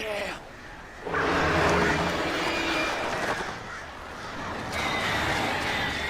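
Crows cawing in Alan Wake Remastered, harsh repeated calls over a steady outdoor ambience, with someone talking over them at points.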